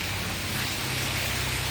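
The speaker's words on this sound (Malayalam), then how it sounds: "നല്ല മഴയാണ് കേട്ടോ" Steady heavy rain falling, a dense, even hiss that holds at a constant level throughout with no voices.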